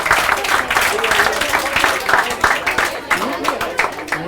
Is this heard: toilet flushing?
no